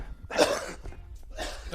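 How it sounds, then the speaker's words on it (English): A man on a morning radio show clears his throat in two rough, close bursts separated by a short pause, with no words spoken. "I was just clearing my throat."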